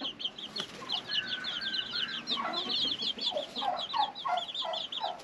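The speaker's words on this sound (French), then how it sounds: "Bon c'est bien, j'ai juste un coq là-haut." Chickens and a small russet rooster cluck and call steadily inside a henhouse, a busy overlapping chorus of short clucks and squawks at moderate distance with no talk.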